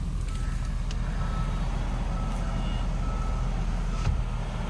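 A truck's reversing alarm beeps in a farm pasture setting, a faint repeating tone under steady engine and outdoor rumble.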